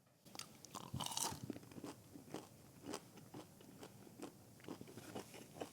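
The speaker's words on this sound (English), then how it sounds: "let's try a Mr. Krabs Bacon Cheese Tot" A Burger King bacon cheese tot is bitten and chewed close up, several crisp crunches at the first bite followed by steady wet chewing, with no talk.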